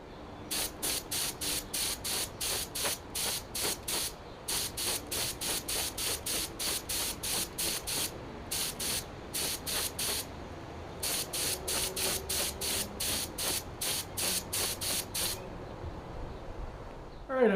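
Aerosol spray paint applied to a Briggs & Stratton engine debris screen during a 1956 Cooper Cyclo-Mo-18 mower restoration: repeated short, loud hissing bursts close up in steady rhythmic groups with brief pauses between sets.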